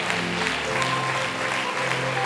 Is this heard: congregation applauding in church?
yes